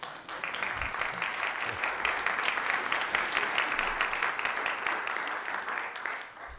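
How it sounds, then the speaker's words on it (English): Audience applause at a congressional primary debate in Maryland, steady moderate clapping from a seated crowd lasting several seconds, fairly distant and even throughout. "You're allowed to applaud if you want to."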